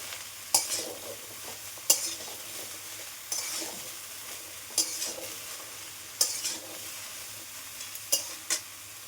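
Bottle gourd stirred in a hot pan, a soft sizzle punctuated by about seven distinct spatula scrapes and knocks at irregular intervals, close and with no talking.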